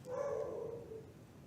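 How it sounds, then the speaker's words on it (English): A single dog gives one drawn-out, somewhat muffled bark or whine in a Minecraft session, moderately loud and trailing off over about a second, with faint background noise around it. "She should not be barking."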